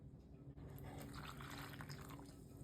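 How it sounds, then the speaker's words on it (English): Boiling water pours steadily into chocolate fudge cake mix in a bowl, a continuous close splashing gush lasting a few seconds without talk. "Next, we're going to add the boiling water."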